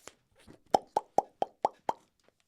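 Six crisp pops from Minecraft in quick, even succession, each short and punchy like a cartoonish game effect, preceded by faint rustling.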